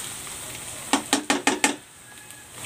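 Bagoong alamang (shrimp paste) being stirred in a pan, giving five quick scraping strokes in a row mid-way over a soft background sizzle, fairly close and with no talk.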